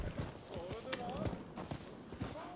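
Horse hooves clip-clop at a brisk, steady rhythm in the Rise of the Ronin video game, close and fairly quiet, mixed with other game sound.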